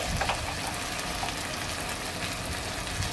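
Spice paste with salt fries in a pan while being worked for Ghugni, giving a steady, fairly quiet sizzle with faint scraping and no talk.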